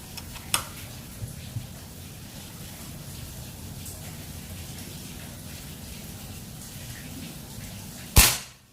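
Low steady hiss and a few faint clicks, then one loud, sharp report from a 30 cm mini bullpup PCP air rifle at 3500 psi near the end that decays quickly.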